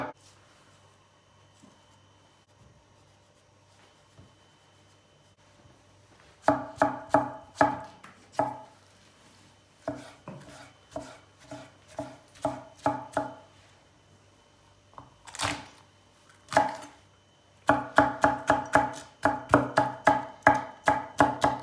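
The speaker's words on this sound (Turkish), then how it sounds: "Tabandan lezzet versin diye İçine biraz da sarımsak doğrayacağız." A knife chops garlic steadily on a cutting board in rapid bursts of close, crisp knocks, with quiet pauses between runs and no talking.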